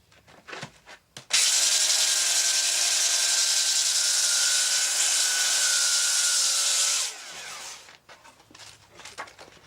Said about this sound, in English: I like to use my DeWalt belt sander